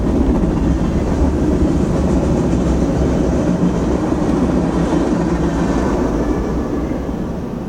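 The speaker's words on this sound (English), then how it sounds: "There's your train going by." A train rolls past with a steady, loud rumble and faint clatter, holding constant for several seconds before easing slightly at the end, with no voices.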